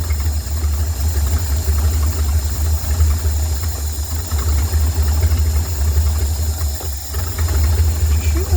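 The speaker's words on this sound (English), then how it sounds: "She's idling now." An old engine idles steadily with a low, rough rumble and a slight knock, its carburetor flappers stuck while gas sprays, heard close and loud with some clattering and a brief dip near the end.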